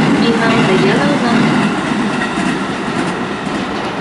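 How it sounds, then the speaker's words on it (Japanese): A local train bound for Utsunomiya pulls into track 4 at a Japanese station platform, a loud continuous rumble with wheel clatter while a platform announcement voice plays over it. "The local train bound for 宇都宮 will soon arrive on track number 4."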